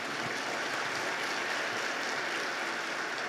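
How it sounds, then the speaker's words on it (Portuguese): Steady, dense applause from a conference audience at the Mining Innovation Summit 2025, welcoming a panelist; even, continuous clapping with no breaks and no talking. "Uma salva de palmas, por favor."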